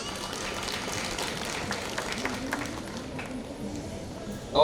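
An audience at a college graduation ceremony applauds in a sustained dense patter of many hands clapping, moderately loud and steady, with a brief louder burst at the very end.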